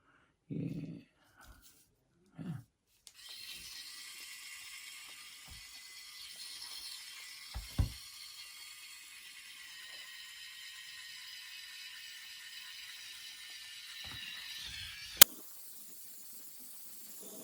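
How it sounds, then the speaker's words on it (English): An electric mixer runs with a steady, fairly quiet whir for about twelve seconds after a few scattered knocks, ending in a sharp click as it switches off. "Now I'll mix this for a good, 3 minutes."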